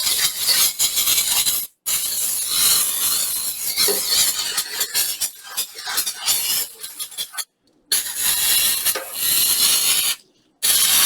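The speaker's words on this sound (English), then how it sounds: "I'll just give it a good spray out to remove that dirt and dust and everything" Compressed air sprayed in bursts through a dusty PC case being refurbished, a loud continuous hissing blast broken by a few short pauses, close to the microphone with no voices.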